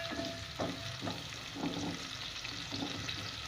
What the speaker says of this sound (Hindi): तो मैं ये प्याज ब्राउन करती हूँ